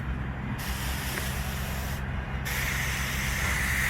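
A spray nozzle steadily hisses snow flocking onto a Christmas tree, a continuous close, fairly loud airy rush that shifts slightly in tone partway through, with no talk.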